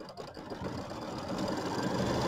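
Embroidery machine stitching a serpentine geometric quilting pattern on a quilt block, a steady, fast mechanical whirring and clatter that builds slightly in level.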